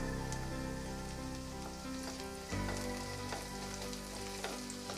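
Garlic and finely chopped green chillies sauté in a pan for drumstick flower soup, giving a loud continuous frying sizzle that surges briefly midway as more goes in, with scattered spatula scrapes.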